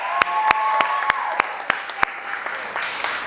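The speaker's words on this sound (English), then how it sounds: "Give her a round of applause for that." A small audience at a talk on raising resilient, confident teens gives a brief round of applause, a few distinct sharp claps over roughly three seconds, with voices faintly audible underneath.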